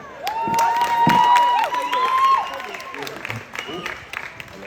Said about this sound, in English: Let's give a clap again for Asher.